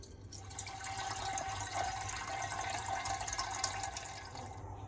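Filtered water is poured into a pot for home-brewing an Oktoberfest beer, a continuous bright splashing pour that runs steadily throughout, close and moderately loud.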